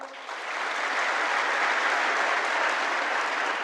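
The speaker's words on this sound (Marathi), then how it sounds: "जोरदार टाळ्यावर एकदा डबल" An audience claps loudly at a lecture in Marathi. After a brief ragged start, the applause swells into dense, sustained clapping that carries on without any speech.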